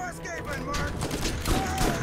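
Rapid explosive shotgun blasts from an orange shotgun in the Borderlands video game, a dense burst of booming shots and bangs layered with whirring game effects and someone talking over the gunfire.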